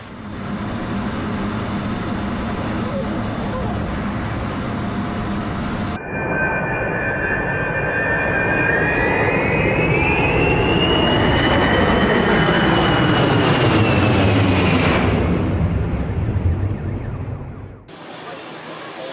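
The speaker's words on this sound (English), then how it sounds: "the runway is so close to the shore that aircraft fly just a few meters above beachgoers' heads" A loud jet airliner passes low over Maho Beach, St. Martin, its engine roar swelling and sliding in pitch as it sweeps close overhead, continuous and dominant for most of the span.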